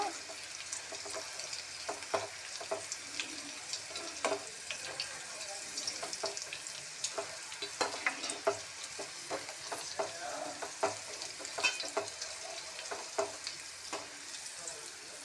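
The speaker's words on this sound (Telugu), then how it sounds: "ఈ విధంగా ఎండుమిర్చి వేసుకోండి ఈ పచ్చళ్ళలోకి నంచుకొని తినడానికి బాగుంటాయండి ఇవి కూడా వేపుకోవాలి" Dried red chillies frying in oil for amla pickle crackle and sizzle steadily at a low level, with scattered stirring clicks and scrapes throughout.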